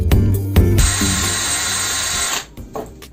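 A power tool polishes a metal moped license plate, starting with a few quick revving bursts before settling into a sustained, loud grinding whir that tapers off with short scraping touches.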